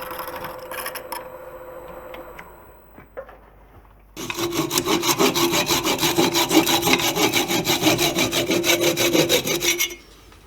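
A wooden travel mug is parted off on a woodturning lathe, giving a loud, rhythmic rasping cut that runs for about six seconds. Quieter scraping and knocks come before it.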